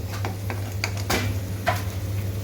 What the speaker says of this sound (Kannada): ಈರುಳ್ಳಿ ಹಸಿ ವಾಸನೆ ಹೋಗೋವರೆಗೂ ಸ್ವಲ್ಪ ಹುರಿಬೇಕು